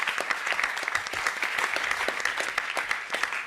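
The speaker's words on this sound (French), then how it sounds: "On vous applaudit." A studio audience applauds on a French talk-radio or TV show, with steady, dense clapping that stays close and loud from start to finish and no voices over it.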